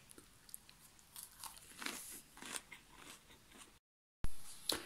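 Crisp bites and crunchy chewing of a light, home-cooked crispy dish, a run of irregular close crunches and mouth sounds, then a short gap and one more sharp crunch, with no talking.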